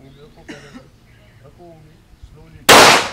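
A single loud gunshot cracks out near the end, fired during self-defence shooting practice, after quiet murmured talk and a cough-like sound, with the blast decaying sharply.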